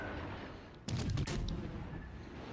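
Naval gunfire lands citadel hits in the video game World of Warships: Legends. A sudden heavy burst of several quick booming impacts follows a quiet lead-in, then a rumbling tail fades out.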